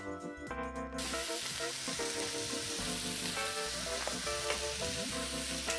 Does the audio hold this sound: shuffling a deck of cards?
no